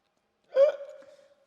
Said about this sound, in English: I got hiccups, so what?